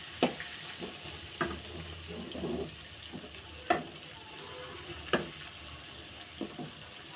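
Pointed gourd and green chilies frying in a pan, with a steady low sizzle under repeated sharp scrapes and knocks of stirring, close and moderately loud, no voices.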